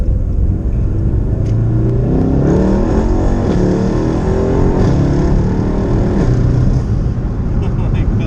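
A tuned 2018 Mercedes-AMG E63 S accelerating at low RPM and part throttle, a loud continuous low engine rumble that builds and holds from inside the car, steady throughout.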